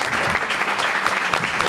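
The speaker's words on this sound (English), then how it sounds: "One round of applause." A round of applause from an audience at a police use-of-force report release event, steady dense clapping filling the room throughout with no gaps.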